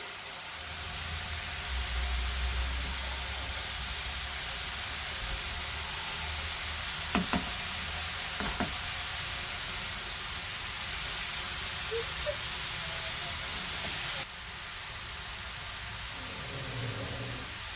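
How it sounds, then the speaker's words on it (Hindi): Grated carrots frying in a pan for gajar halwa: a steady, close hiss of sizzling runs throughout, broken by a couple of brief utensil clicks, with no talk. "अब यहाँ पे इसको मैं फ्राई करूँगी 5 से 10 मिनट के लिए।"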